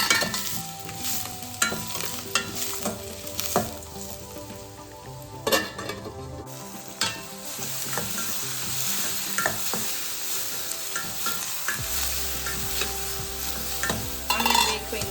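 Onions frying in a pan with coriander for a bottle gourd curry, a constant close sizzle broken by repeated scraping and clanking of a spatula stirring, no talk.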